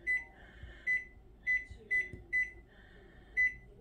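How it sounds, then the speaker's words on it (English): A kitchen timer is set while baking macaroni and cheese, giving six or seven short, crisp electronic beeps in quick succession, close and clear over a quiet kitchen. "So I'm setting my timer for 15 minutes."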